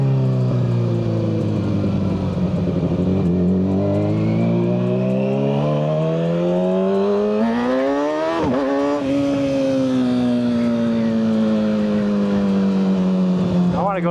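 A Kawasaki ZX6R with a Yoshimura slip-on and full header exhaust revs up through the gears, its engine note climbing in long sweeps, briefly dropping at a shift, then rising again, loud and close with wind rush.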